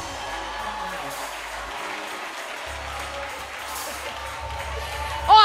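A church convocation crowd applauds continuously, a dense wash of many hands clapping at once with cheering mixed in, ending in a louder vocal swell.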